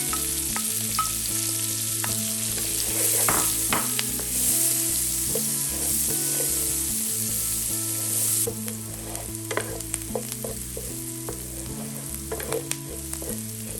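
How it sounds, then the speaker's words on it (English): Onions frying in bacon fat give a steady, close sizzle with occasional stirring clicks, heard under tonal background music throughout. "put the onions in here. Let it get some of that bacon flavor"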